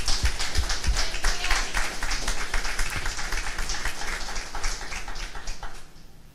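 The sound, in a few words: congregation applauding in church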